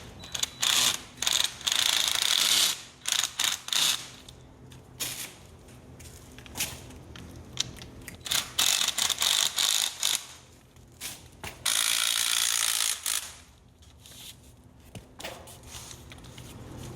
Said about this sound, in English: go back with your impact or ratchet and tighten them up